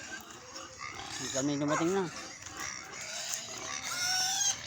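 Farm pigs being fed let out a burst of loud rising squeals and grunts, then keep up scattered grunting while people talk nearby.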